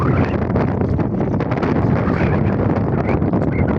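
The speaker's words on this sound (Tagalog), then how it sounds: "lakas guys ng hangin" Strong wind buffets a small fishing boat at sea, a loud, steady broadband roar of gusts across the microphone with no pause.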